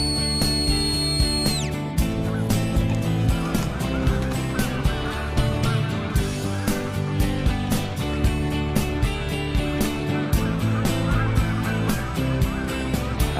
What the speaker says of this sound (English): His organization uses border collies, like Vassie here, to do what nothing else can: change the migratory habits of Canada geese.